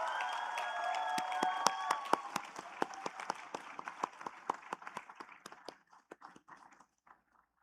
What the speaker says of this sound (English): I would like everyone to please join me in a round of applause for ourselves and for everyone who helped us